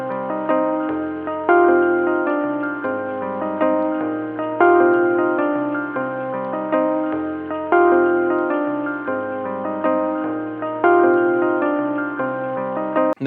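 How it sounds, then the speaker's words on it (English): A lo-fi beat built on a Lemonaide-generated MIDI loop, with mellow chords and a repeating bass line in a steady looping groove, played loud and clean with no voices. "what I'm about to play for you is the MIDI loop that was generated with Lemonaide"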